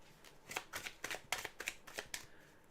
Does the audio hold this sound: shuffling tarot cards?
yes